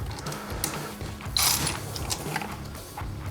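A 1/4 inch ratchet on a 6-inch extension clicks steadily while loosening valve cover bolts on an FL5 Civic Type R, a close, continuous mechanical ratcheting with no talk over it.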